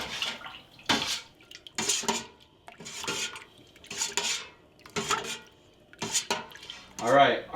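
Spoon scraping and sloshing through cheese curds in a pot for homemade mozzarella, with rhythmic stirring strokes repeating about once a second, fairly close and steady.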